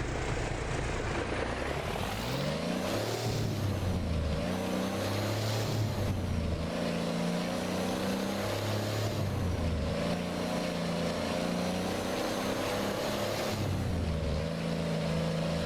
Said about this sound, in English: You'll hear me slipping the clutch.